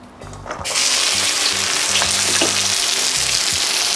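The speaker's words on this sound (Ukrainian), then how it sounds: "Після того, як соняшникова олія гарно нагрілась, закладаю цибулю." Hot sunflower oil sizzles loudly and steadily as chopped onions hit the pan, a dense crackling hiss that swells after a brief quieter start.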